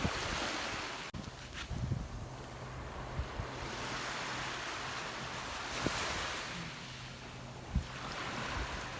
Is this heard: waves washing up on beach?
yes